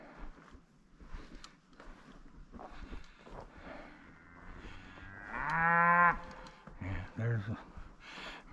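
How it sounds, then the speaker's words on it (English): A bull or cow lets out a loud, drawn-out moo in open Arizona ranch country during a hog hunt, rising over steady wind and the low murmur of people talking nearby. "Mr. Bovine himself sounding off"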